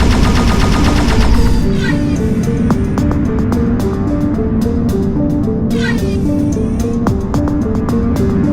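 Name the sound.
spaceship weapons shooting in a VR video game (End Space)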